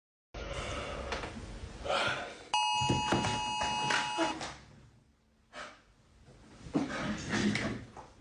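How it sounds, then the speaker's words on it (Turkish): A school bell rings in a classroom, a steady electric tone lasting about two seconds that rises over students' noise and breathing, with rustling and movement before and after. "Zil çalınca gidersin."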